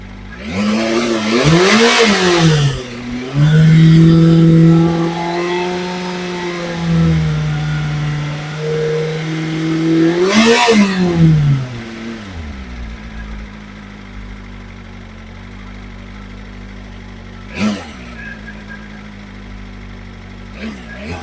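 A BMW M1000RR motorcycle fitted with an aftermarket exhaust revs hard from idle in two loud bursts, then settles back to a low idle with one short, sharp throttle blip near the end.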